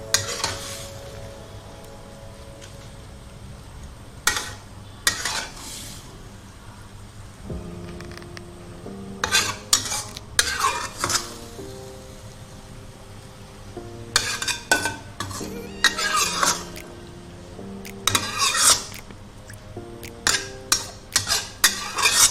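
Sautéed fermented soybean (tauco) mixture spooned onto pomfret fish, with a steady sizzle and hum under repeated sharp clinks and scrapes of a spoon against a pan and dish, close and fairly loud.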